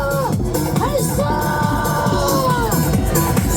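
Crowd at an anti-election-fraud rally at Jonggak Station in Seoul raising a loud, sustained collective roar with overlapping voices and sung or shouted tones, steady in level throughout.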